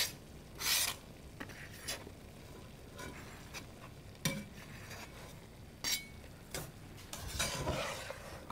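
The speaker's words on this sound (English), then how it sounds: "We're going to add the garlic." Garlic going into a pan while cooking, with faint sizzling and several sharp scrapes and stirs of a utensil against the pan at irregular intervals.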